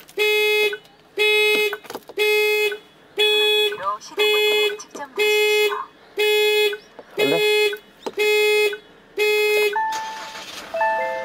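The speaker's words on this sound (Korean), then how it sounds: "경보가 울려버렸네." A SsangYong Rexton Sports pickup's alarm blares close by in a regular pulsing pattern of loud horn-like tones, about ten bursts with short gaps, and a person's voice speaks briefly between them.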